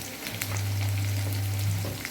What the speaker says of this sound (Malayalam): ഇഞ്ചി നന്നായിട്ട് മുരിഞ്ഞ് വരണം കേട്ടോ